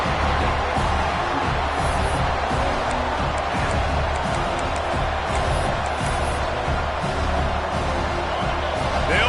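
Steady stadium crowd roar from a football video game, dense and continuous, with faint bumps and thuds mixed in and a commentator's voice partly buried underneath.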